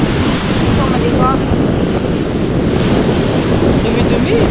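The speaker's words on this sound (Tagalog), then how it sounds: "Kasi malakas ang alon. Saka malakas yung alon eh." Strong ocean waves surge continuously onto a beach, a loud, dense roar with heavy wind buffeting the microphone and no clear gaps.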